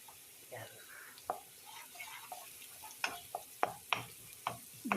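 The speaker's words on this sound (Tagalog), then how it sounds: "Gisa-gisa lang." Onions are sautéed in a pan, with a faint sizzle under scattered metal clicks and scrapes of the stirring utensil that grow sharper toward the end; a voice speaks briefly near the start.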